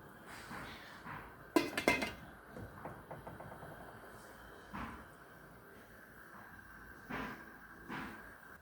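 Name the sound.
pasta added to a pot, stirred and covered with a lid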